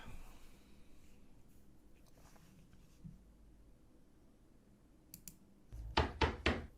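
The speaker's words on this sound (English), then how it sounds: "Someone's knocking at my door." Three firm knocks on a door in a home setting, loud and close, rapping in a quick even series after a stretch of quiet room noise with a few faint clicks.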